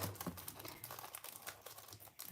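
A sheet of shimmer paper in fresh freesia, soft succulent or gold being peeled from its plastic packaging, giving close, soft crinkling and tearing rustles in short uneven bursts with a brief louder crackle at the end.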